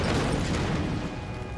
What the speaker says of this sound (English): That that was a big explosion.